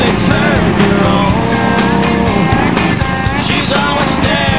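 Lawn tractor engines chug loudly during a race, a dense mechanical roar whose pitch rises and dips as the machines push along, with sharp rattling bursts cutting through the steady noise.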